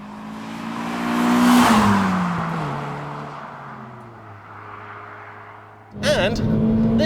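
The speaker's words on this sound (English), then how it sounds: "And this makes a great sound too. Real classic twin cam vibes from it." Proton Satria GTI twin-cam engine with a non-standard exhaust, revving up loud and close, easing into a steady droning hum, then a sharp burst of revs near the end.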